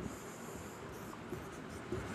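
Chalk or marker writing on a board during a Hindi chemistry lesson, faint scratchy strokes with a couple of brief squeaks, heard quietly and alone.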